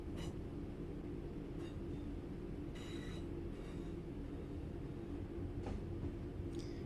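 Train wheels clatter over rail joints in Train Sim World 4: a steady, loud rolling rumble throughout, with a few sharp clicks and brief squeals breaking through at irregular intervals.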